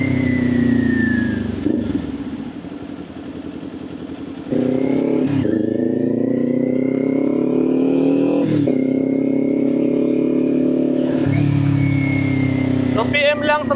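Kawasaki Ninja 400 motorcycle, a 400cc sport bike, riding through Manila city traffic, its engine droning steadily with rising and falling revs through gear changes, close and loud, with brief clatter near the end.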